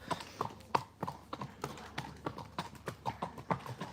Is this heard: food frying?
no